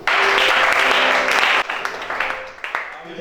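Congregation applauding during a church sermon in Gabon, a dense, loud burst of clapping and cheering for about a second and a half that then thins out under continued talking.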